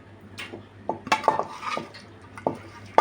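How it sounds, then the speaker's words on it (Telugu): Gongura leaves are tipped into a pot of cooked mutton curry, heard as a few sharp spoon-on-pot clanks and soft stirring scrapes, with only a faint sizzle. "ఇప్పుడు గోంగూర వేసుకుంటున్నాను."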